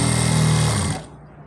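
A sewing machine stitches a seam on ladies' pants in a rapid, loud mechanical run that stops abruptly after about a second, leaving faint room noise.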